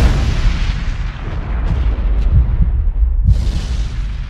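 A loud, deep weapon blast from the Iron Man movie trailer booms and rumbles continuously, with a second heavy explosive burst near the end, no voices.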